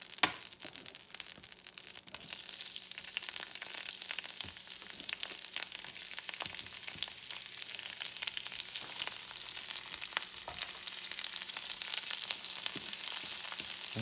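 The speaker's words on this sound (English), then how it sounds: "And you saute this stuff until it's cooked to your taste." Yellow peppers saute in duck fat with a soft, continuous sizzle and light crackle throughout. Occasional faint stirring comes through and no one speaks.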